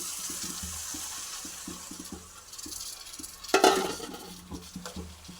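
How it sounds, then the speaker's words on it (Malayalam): Mango pieces being stirred in a hot pan for a side dish served with rice, with steady, close scraping strokes of a utensil against metal, a brief louder clatter midway, and no talking. "നല്ലതുപോലെ ഒന്ന് ഇളക്കി കൊടുക്കാം"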